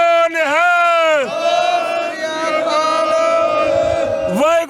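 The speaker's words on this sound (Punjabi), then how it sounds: "ਮੈਂ ਜਕਾਰਾ ਛੱਡਾਂਗਾ, ਹੱਥ ਖੜੇ ਕਰਕੇ ਜਵਾਬ ਦੇਣਾ ਸਭ ਨੇ" Sikh jaikara call rising from a political gathering, a crowd roaring the response together with raised hands, a loud sustained group shout swelling after a brief lead call and holding for several seconds.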